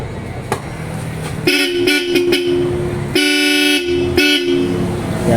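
Bosch Europa horns fitted to a Nissan Terra blast in several short honks and two longer sustained ones, loud and close over a low idling background.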